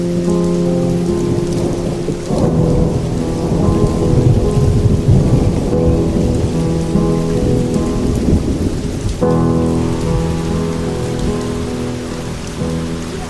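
Heavy rain pours steadily beside a misty waterfall, a dense, loud hiss of water with low thunder rumbling through it, continuous and close with no voices.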